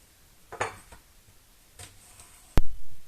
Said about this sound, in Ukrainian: нарізаємо огірочка